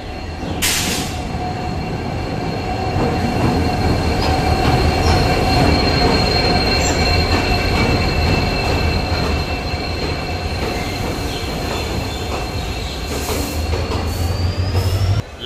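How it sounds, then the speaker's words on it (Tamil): Ledo Intercity Express pulling into New Tinsukia Junction in Assam: loud, steady rumble of railcars with sustained high wheel squeal near and continuous throughout, no voices. "செவன் 35 ட்ரெயின் நியூ டின்சுகியா ஜங்ஷன் வந்திருக்கு"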